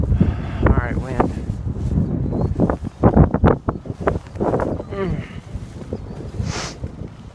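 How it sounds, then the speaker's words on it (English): Strong gusting wind buffets the microphone during traction kite boarding on land, a loud continuous rumble that surges and drops, with excited speech from the rider over it. "Insane wind."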